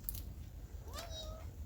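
A cat gives a short, rising-then-falling meow, faint and a little distant, over a quiet indoor background.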